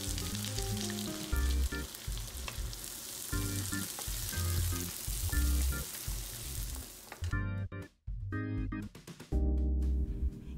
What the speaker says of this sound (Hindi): अब इसमें डालेंगे 1 मीडियम प्याज और 2 लहसुन की कलियां बारीक कटी हुई। इसे गोल्डन ब्राउन होने तक भूनना है।